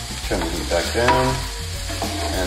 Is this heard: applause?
no